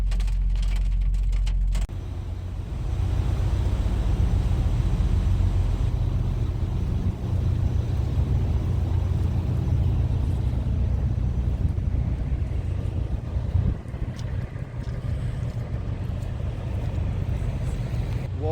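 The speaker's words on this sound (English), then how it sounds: "it's actually freaking hailing out right now here at the Petro in Clearwater, Minnesota" Hail pounds a truck parked at the Petro truck stop in Clearwater, Minnesota, during a storm. It makes a dense, steady roar of impacts up close that holds at a constant level throughout.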